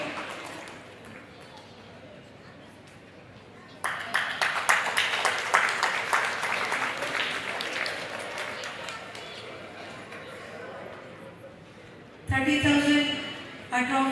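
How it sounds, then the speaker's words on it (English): Applause and clapping from an audience at a chess tournament prize ceremony, breaking out after a quiet stretch and filling the room for about eight seconds before fading, with a voice on a loudspeaker cutting in at the end. "a big round of applause to Tanish Raghavan"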